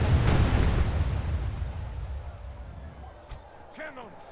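In the Medieval 2 video game, artillery fires canister shot with a loud booming blast that rumbles off and fades, leaving faint battle noise and a few distant shouts.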